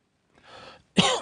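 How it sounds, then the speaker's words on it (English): A soft breathy sound followed by one sharp, loud cough, close and alone. "You've got a nasty cough."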